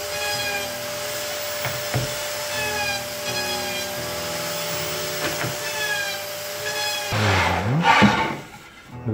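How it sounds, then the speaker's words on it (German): A router mills a radius into beech heartwood for a wardrobe with shoe cabinet, giving a loud steady whine with shifting tonal bands, and a sharper cutting surge near the end before it winds down. "Jetzt werde ich hier noch einen Radius anfräsen"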